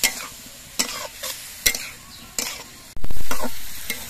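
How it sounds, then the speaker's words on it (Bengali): Green tomatoes cooking in oil and being stirred, with several sharp spatula scrapes against the pan over a light sizzle, then a sudden loud surge of sizzling that slowly fades, close up and with no talking. "এখন শুধু নাড়াচাড়া করতে হবে যতক্ষণ পর্যন্ত না টমেটোর মধ্যেকার জলগুলো শুকিয়ে যায়"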